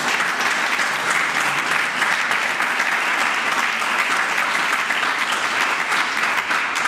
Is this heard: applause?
yes